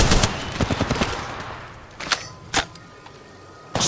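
Bursts of automatic gunfire from the video game Apex Legends, a rapid rattling volley followed by a few sharp isolated shots, loud and close with no talking.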